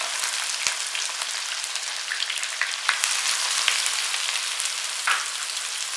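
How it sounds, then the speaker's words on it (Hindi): Chopped onions frying in oil in a pan for Mughlai chutney chicken, a dense crackling sizzle held steady with a few sharp pops and light taps of a spoon, close by. "प्याज को लाइट ब्राउन होने तक फ्राई करेंगे।"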